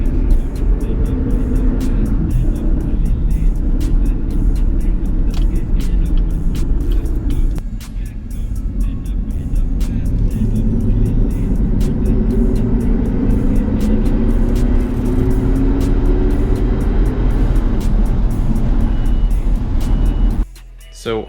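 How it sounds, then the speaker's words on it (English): Worn differential in a 2014 or later Cadillac CTS while driving, heard as a loud continuous low road and drivetrain drone with a rising and falling whine inside the cabin, briefly cutting out near the end. "my differential whining like super crazy. Here is the short clip of the noise I'm hearing while driving."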